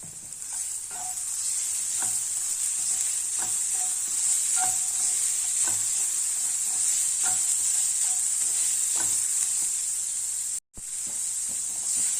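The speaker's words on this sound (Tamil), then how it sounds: "இப்போ சாதத்தை கிளறிடலாம்." Carrot rice sizzles steadily in a hot pan on a stove while a utensil stirs it, with regular soft scraping strokes under a constant bright hiss, close and continuous.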